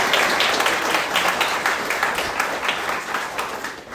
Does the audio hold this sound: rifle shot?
no